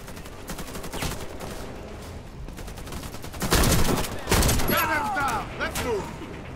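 Gunfire in the shooter game Warface: scattered shots build into dense, rapid bursts of automatic fire midway, loud and close amid ongoing game noise.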